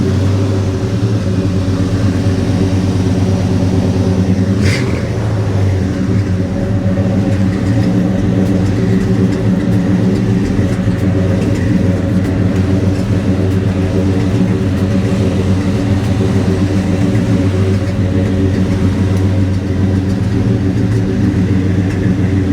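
1987 Chevy C10 short box pickup truck driving, a steady low engine drone and road rumble heard from inside the cab, continuous and fairly loud with no talking.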